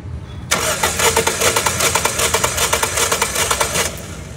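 A car engine cranks on the starter during a wet compression test with engine oil added to the cylinder: about three and a half seconds of loud, rapid, even pulsing that starts abruptly and stops cleanly.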